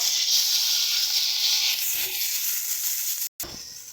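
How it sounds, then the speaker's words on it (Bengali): Spices sizzling and frying in a pan for a Bengali bori curry, a continuous close hiss with faint stirring scrapes, broken by one brief dropout near the end. "দেখো আমাদের কিন্তু মশলা প্রায় ভাজা হয়ে এসছে"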